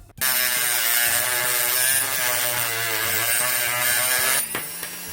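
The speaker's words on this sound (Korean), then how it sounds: "PVC는 깔끔하게 잘 잘리고요" A Dremel rotary tool fitted with a multi-blade runs at speed 15 cutting PVC, producing a loud, steady high-pitched buzzing whine that starts abruptly and eases off near the end, with no voices.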